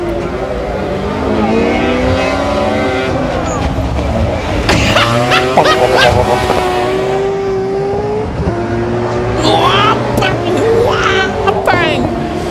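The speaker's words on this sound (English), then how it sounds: "We'll just shut up and let you enjoy Roy Rass's engine, shall we?" A rallycross car engine at a RallyX round in Nysum, Denmark, revs hard and loud up close, rising and falling through the gears with sharp pops and bangs crackling out between the pulls.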